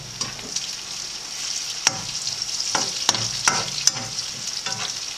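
Ginger frying in hot oil on full heat sizzles steadily with a bright hiss, broken by several sharp clinks and scrapes of a utensil stirring in the pan.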